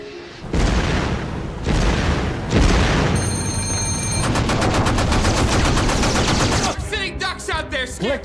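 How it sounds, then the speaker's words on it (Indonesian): German artillery gunfire in a World War 2 battle: loud, continuous booming and rapid bursts of fire, then ringing and chaotic warbling tones near the end. "tiba-tiba posisi mereka ketahuan, dan mereka ditembaki sama artileri Jerman"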